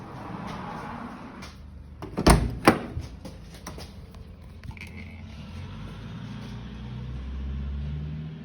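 Door of an ex-mine Toyota Land Cruiser opening and closing as someone climbs inside, a few sharp bangs and clunks near the middle, then a low engine or cabin rumble.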